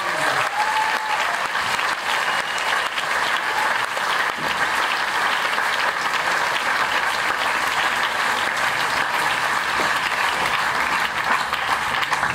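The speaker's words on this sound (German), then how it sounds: "kräftigen Applaus für euch." Audience at a Science Slam in the SO36 club applauding a team of presenters, a loud, sustained wall of clapping that holds steady for the whole stretch, with faint cheers buried inside.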